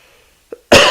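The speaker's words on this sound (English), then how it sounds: "You'll have to edit that part out where I just coughed in the fucking mic." A single sharp cough right into a close microphone, very loud and abrupt, preceded by a short throat sound in an otherwise quiet room.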